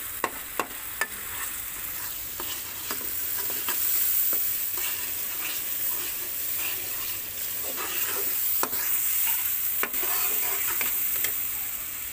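Masala stirred and frying in a pan for spicy fried eggplant, a steady close sizzle punctuated by sharp scraping clicks of the spoon against the pan, no voices.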